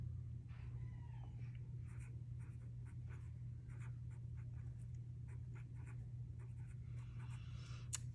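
A pen writing by hand on paper in a teacher's weekly planner, with faint, rhythmic scratchy strokes over a steady low background hum.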